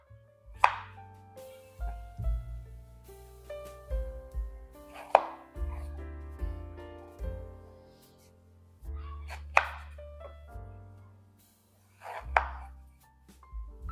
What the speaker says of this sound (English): I'm gonna cut the ends off of this.